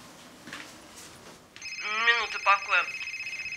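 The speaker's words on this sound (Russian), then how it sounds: "Рит, дай телефончик, он в кармашке" A telephone starts ringing partway through with bright, repeated electronic tones after a quiet stretch, and a voice speaks over it.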